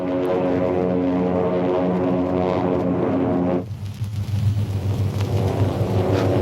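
Propeller aircraft drone from an old 1937 film serial, a loud steady engine roar with strong harmonic hum that cuts abruptly midway into a rougher, noisier engine and wind rush.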